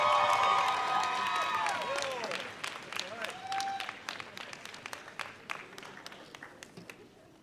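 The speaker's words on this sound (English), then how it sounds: "Let's have a final round of applause for the PharmD." A commencement audience applauds loudly, with cheers and a voice heard early, then the clapping thins into scattered individual claps as it fades.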